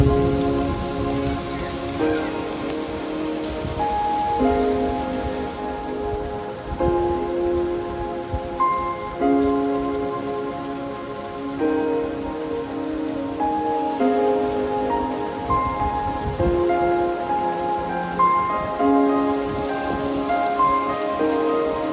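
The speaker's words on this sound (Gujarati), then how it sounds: "તમને બતાવું કેવો વરસાદ આવે" Heavy rain pouring down and drumming on surfaces nearby, a dense steady downpour, with a melodic tune playing over it the whole time.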